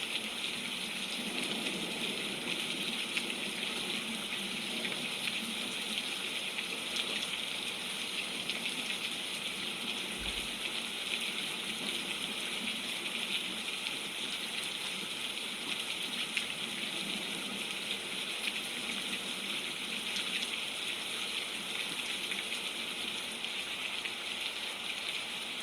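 Water drips and trickles steadily on a very rainy day, a faint, continuous wash of rain with fine patter that runs unbroken and unchanged throughout, with no voices.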